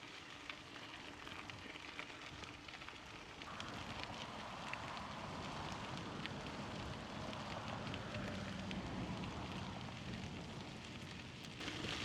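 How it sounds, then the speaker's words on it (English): Rain falling steadily on a forest trail in Monongahela National Forest, West Virginia, during a bike tour, a soft, continuous broadband wash with a slight rise partway through, with no talking. "It just dumps rain for 5, 10, 15 minutes and then stops."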